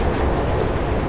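A train in the Mirror's Edge video game rumbles with a steady, dense low roar throughout, with no clear clatter and nobody talking.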